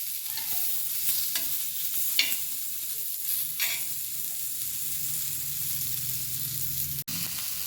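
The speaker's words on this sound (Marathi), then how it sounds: "कांदा देखील आपल्याला छान परतून घ्यायचा आहे." Onion sautéing in oil in a pan where green chillies were just fried, giving a steady, soft sizzling hiss with a few faint stirring scrapes, close by and without talk.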